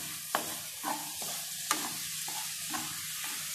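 River mussels are stirred and ladled into a pot of broth, with a gentle bubbling sizzle underneath and several distinct scraping clinks of the ladle against the pot at irregular intervals, close and fairly quiet.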